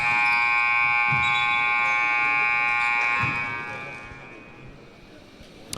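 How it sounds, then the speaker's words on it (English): A basketball end-of-period buzzer at an IVP Games men's game, ITE vs SUSS, blares as a loud steady electronic tone that holds for about three seconds and then fades, with arena noise around it. "Wei Liang at the buzzer."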